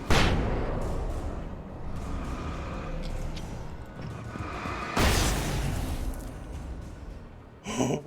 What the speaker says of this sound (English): they're popping off guns there